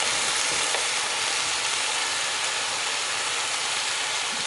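Oxtail browning in a pot with thyme and pimento, a loud, steady, dense sizzle and hiss that runs unbroken throughout without talk.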